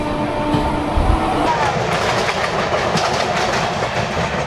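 Amrit Bharat Express 22588, running from Banaras to Sealdah, rolling past Bidhannagar Road on the rails, heard from on board as a continuous loud rumble with rhythmic clickety-clack wheel beats.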